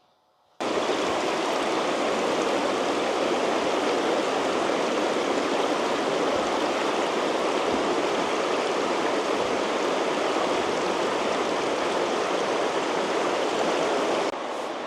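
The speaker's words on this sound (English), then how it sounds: "So we're just set up at the beside the stream." A flowing stream in the Quebec wilderness gives a steady, dense rush of water, close and loud, starting abruptly and continuing unbroken without any voices.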